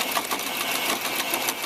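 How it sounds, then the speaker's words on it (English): A sewing machine stitches along the side of a tutu purse in a short, steady, close whirring run with no talk over it. "I'm going to slowly start sewing this along the side"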